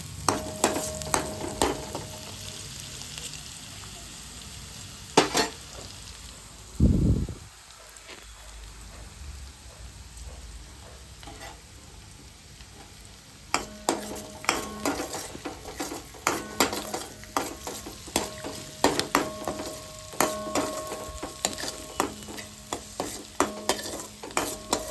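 Onion and garlic fry in oil while chickpeas are tempered, giving a steady soft crackle and sizzle throughout, with a brief thump of stirring partway through and sharper, busier spattering toward the end; no voices.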